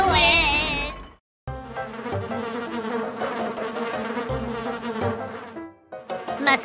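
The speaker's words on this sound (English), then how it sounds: "Fuzzy buzzing mosquito pilots!" Cartoon mosquitoes buzz in a loud, whining, wavering drone for several seconds, broken by a brief silence near the start and a dip near the end.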